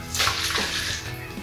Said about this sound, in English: And then, of course, you shake it up.